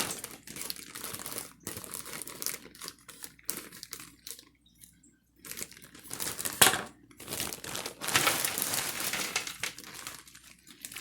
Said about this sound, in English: we also have to go with this meal a bag of waffle fries